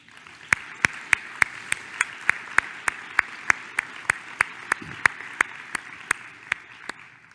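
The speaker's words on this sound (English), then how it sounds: "let's give them a round of applause" Crisp claps at a steady, regular pace sound in a conference hall for absent paper award winners, like a few people clapping in rhythm against a quiet background.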